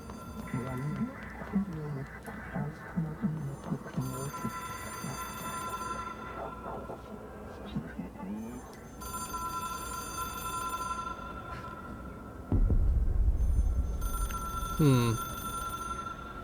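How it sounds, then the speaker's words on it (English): A hotline phone from the game Control, an object of power, rings with repeated tonal bursts through a murky, droning ambient bed, with a heavy low rumble swelling near the end. "It is a phone. It's an object of power."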